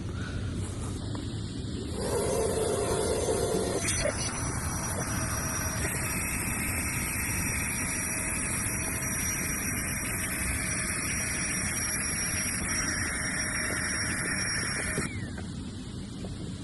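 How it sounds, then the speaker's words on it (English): Small FLEXTAIL electric pump inflating a 2 kg ITIWIT packraft, a steady, fairly loud hissing whir that starts after a couple of seconds and runs continuously before cutting off near the end, with no talking. "Little FLEXTAIL pump."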